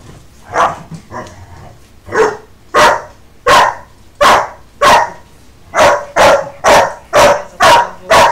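A dog barks loudly and repeatedly, about a dozen sharp, close barks in a quick, uneven series, with a few softer yips near the start.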